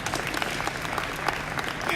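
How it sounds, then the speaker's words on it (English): A conference audience applauds, giving a short burst of mixed clapping and crowd noise heard fairly close, with voices talking over it. "So big round of applause for CMI on fixing the issue"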